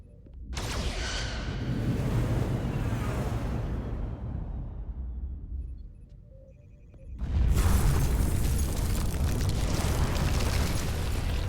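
Weapons fire and explosions from the Star Trek Resurgence video game: a deep, roaring blast rumbles for several seconds, fades briefly, then a second heavy explosion erupts and sustains loudly to the end.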